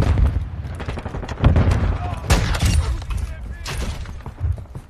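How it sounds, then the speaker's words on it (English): A stun grenade goes off in a first-person shooter video game amid bursts of gunfire, sharp cracking blasts and shattering bangs packed close together, with a player's voice over the action. "Stun grenade out!"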